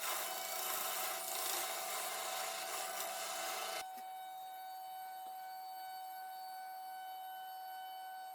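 Laurel branch spinning on a wood lathe as a tool cuts wood away, a loud, rough rasping scrape for about four seconds that stops abruptly, leaving a quiet steady motor hum.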